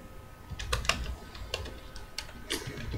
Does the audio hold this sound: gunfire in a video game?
no